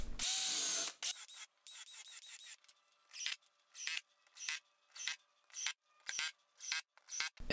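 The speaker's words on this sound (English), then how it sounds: "and then ran my screws in" A power drill whirs in short repeated bursts, driving screws one after another into a CNC router waste board with T-track strips, with brief pauses between each run.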